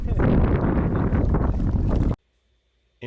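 Strong north wind buffeting the microphone beside a river on a cold spring fishing trip, a loud continuous roar and rumble that cuts off abruptly into near silence before returning.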